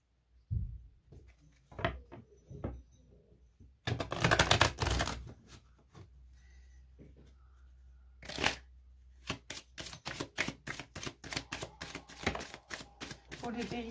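Tarot cards are shuffled close by in several bursts: a few soft flicks, then a dense riffle, and later a quick rhythmic series of card slaps, with a voice speaking briefly between the bursts.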